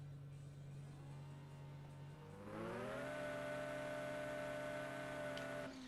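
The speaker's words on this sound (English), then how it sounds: "Wow, this car is as loud as a Lambo." In the game Drag Racing No Limit 2, a car engine idles low, then revs up sharply and holds a loud, steady high-pitched whine for several seconds, with no talking.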